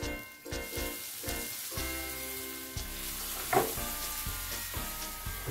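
Shahi paneer masala with milk added simmers and sizzles in a pan over a low flame, with a steady close hiss and regular scrapes of stirring throughout.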